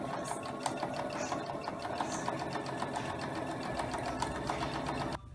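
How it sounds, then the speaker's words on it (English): Home sewing machine stitching around the layers of a homemade oven mitt, a steady, fast mechanical whir and clatter running continuously before cutting off abruptly at the end. "go ahead and sew around your mitt. And hopefully my machine won't get jammed up like it usually does."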